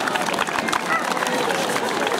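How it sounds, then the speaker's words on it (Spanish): Secondary school students applaud at a Mother's Day celebration, a dense, loud and steady patter of clapping with crowd chatter mixed in. "A quien le vamos a recibir con fuertes aplausos"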